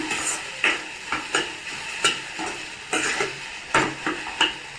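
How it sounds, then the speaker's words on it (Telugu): Turmeric is stirred into tomato curry frying in a pan, giving rhythmic spoon scrapes and clinks at roughly regular intervals over a low continuous sizzle, heard up close with no voices. "ఇది కూడా ఇప్పుడు కలిపెట్టేసుకున్నాం బాగా"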